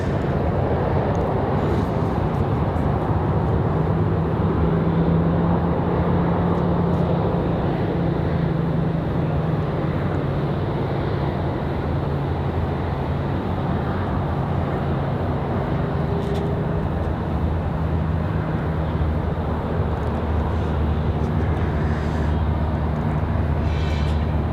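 A jet airliner landing at Raleigh-Durham airport gives a steady, broad engine roar with deployed thrust reversers, loud and continuous throughout.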